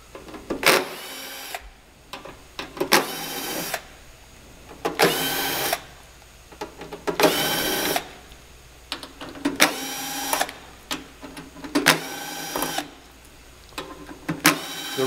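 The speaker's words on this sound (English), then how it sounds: "I'm gonna go ahead and take the rest of the screws out" A power drill or driver runs in repeated short bursts, about eight whirring spells of a second or so each, taking screws out of the body of an Artisan 2.5/3e coffee roaster; close and fairly loud, with brief quiet gaps between bursts.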